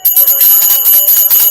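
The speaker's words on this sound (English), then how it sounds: "Give me some bells." A bright bell sound effect rings in quick repeated dings, loud and upfront, for about a second and a half with no talking.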